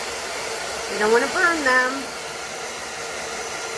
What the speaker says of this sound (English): You want to make sure that blow dryer is not hot, just on warm.